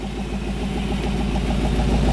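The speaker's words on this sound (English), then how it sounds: "The side exhaust sounds good too." A 1956 Chevrolet Bel Air idles through its side exhaust with a deep, steady rumble, a loud, close throb that pulses evenly throughout.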